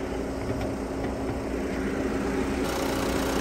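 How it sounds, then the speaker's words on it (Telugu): A non-accident car's engine idling with the air-conditioning on and its compressor running, a steady close mechanical drone with a constant hum and no talk. "ఇంజన్ ఏసీ ఆన్లో ఉంది. కంప్రెసర్ మనకు సౌండ్ పడుతుంది,"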